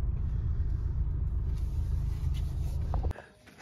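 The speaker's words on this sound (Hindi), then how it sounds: "चलो जरा गाड़ी पार्क कर दें" A car being parked at a resort, its engine rumbling steadily at close range for about three seconds before cutting off abruptly, leaving a quieter background with faint clicks.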